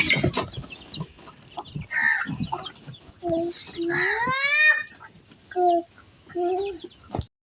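Farm chickens cluck and squawk close by in a village yard, in short bursts with a rising, drawn-out call. Someone talks in between the calls.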